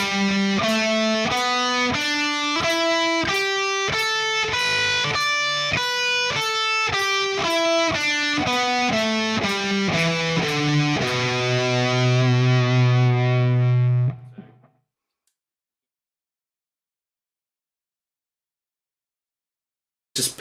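An EVH Wolfgang electric guitar with a distorted tone plays a blues scale as clear single notes running up and back down, ending on a sustained note that rings out and fades to silence.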